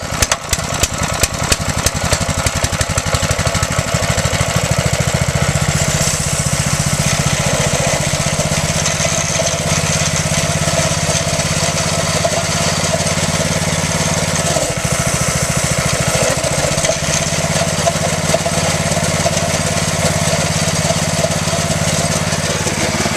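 A quarter midget race car's small engine is pulled and cranked through a few rapid attempts, then catches and settles into a steady, buzzy idle close by with slight speed changes.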